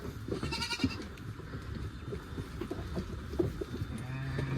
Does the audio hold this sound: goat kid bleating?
yes